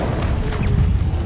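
An Incendio fire spell cast in the Hogwarts Legacy video game: a loud, close, roaring burst of flame with a low thumping crash and crackling, whooshing texture, heard alone.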